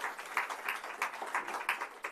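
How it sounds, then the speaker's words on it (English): A conference audience claps in a brief, steady round of applause, many hands patting close together with rhythmic peaks and no voices over it. "Can you give yourself a round of applause,"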